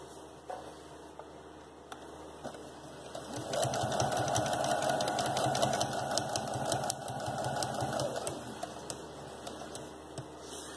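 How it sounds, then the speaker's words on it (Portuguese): A sewing machine stitches along the marked line of a shoe pattern, running in one steady, fast mechanical whir for several seconds over a constant background hum. "vou costurar em cima dessa linha toda a volta e vou terminar o retrocesso ali"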